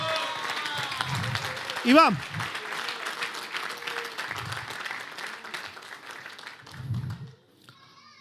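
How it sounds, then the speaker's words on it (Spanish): A church congregation claps at a Sunday service in a steady patter heard under someone talking, with low thumps and a brief rising tone near the start. "Gloria a Dios, un fuerte aplauso."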